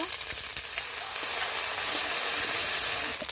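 Water poured into a hot pan of sizzling spice paste with bay leaf, green chilli and ginger paste, a loud, dense, steady hiss and crackle of frying and steam, close and continuous throughout.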